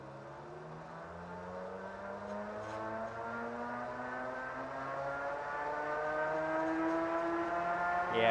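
A 1000 watt ebike motor spinning in fourth gear on a test run, a steady electric whine with harmonics that climb slowly in pitch as it speeds up, growing gradually louder.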